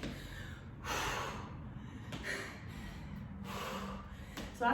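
Heavy, audible breaths during a weight workout, with several airy inhales and exhales in an uneven rhythm, close and moderately loud.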